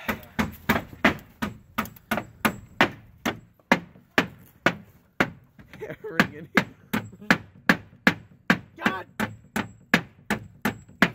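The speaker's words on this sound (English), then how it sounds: "this needs to be hammered in better" Boards in a pallet-built alleyway are driven with a cheap hammer: a long run of sharp, evenly spaced wooden whacks, close and loud, with a short pause midway and a brief exclamation from a voice.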